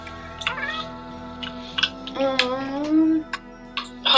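A cat in The Sims 4 gives several short meows spread across a few seconds, with one longer drawn-out call near the end, over a faint background hum.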